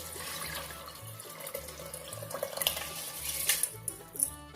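Water runs into a pot of rice, two cups of rice measured against three cups of water, a soft continuous splashing pour with faint clinks of the pot, quiet and close.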